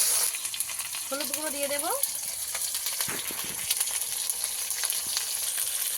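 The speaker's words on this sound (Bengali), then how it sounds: "আদা রসুন একসঙ্গে ভালো করে কষিয়ে নেব।" Ginger and garlic paste sautéing in a pan for a kuche (eel) fish curry, a steady sizzle and frying hiss throughout with occasional stirring scrapes, while someone speaks over it.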